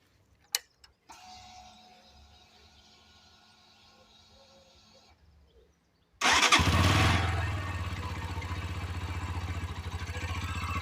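A Romet Chart 125 motorcycle's OHC engine, with freshly adjusted valve clearances, cranks and catches after a few ticks and clicks, then settles into a loud, steady idle close by.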